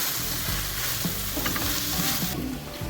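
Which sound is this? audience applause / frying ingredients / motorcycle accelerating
frying ingredients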